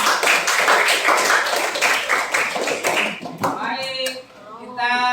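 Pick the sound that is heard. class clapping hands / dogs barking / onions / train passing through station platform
class clapping hands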